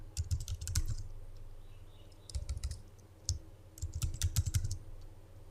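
Computer keyboard typing comes in quick bursts of close, crisp key clicks separated by short pauses, with no speech.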